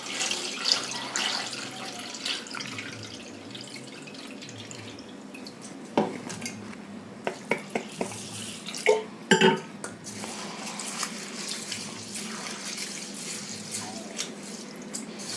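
Raw rice being rinsed in water in a pot for neiyappam, with soft sloshing and swirling water, a few sharper splashes and clinks of grains and pot, fairly quiet and close, no talking.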